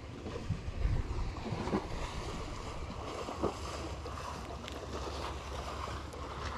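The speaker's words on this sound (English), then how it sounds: "The waves are here and here to stay for the rest of the day." Waves slapping around a fishing boat out on the water during summer striped bass and catfish fishing, a continuous rough wash mixed with wind rumble on the microphone and a few louder knocks.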